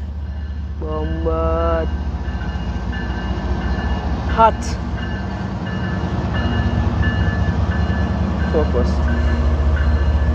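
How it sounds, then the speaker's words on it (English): A train rumbles past with a steady low roar, a few short horn-like tonal blasts sounding briefly early on and again later, while someone talks over it. "Alright, here's a train. Choo choo!"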